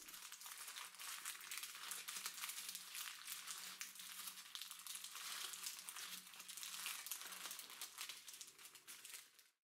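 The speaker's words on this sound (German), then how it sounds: "Das Papier kann man wie gezeigt entfernen." Baking paper peeled off a glutenfree almond cake, a steady crinkling and crumpling rustle that goes on for nearly ten seconds, close and fairly quiet, with no talking.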